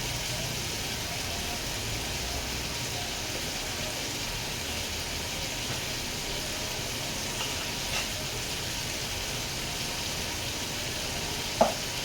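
Whole spices frying in hot oil in a pan: a steady, dense sizzle that holds at an even level throughout, close by, with one brief clink near the end.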